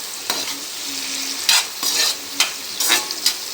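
Onions fry in a pan for a chicken gravy while a slotted ladle stirs them, steady sizzling broken by several loud scraping sweeps, close up and without talk.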